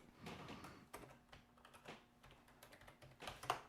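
Someone types a short search on a computer keyboard, giving faint, close, irregular key clicks that end in a slightly sharper final tap.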